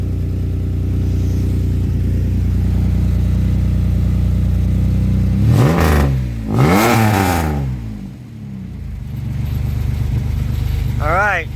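A late-1990s to early-2000s Camaro or Firebird V8 idles with a steady low rumble after a fuel pump and tank swap, then revs sharply twice and blips once more near the end, close and loud.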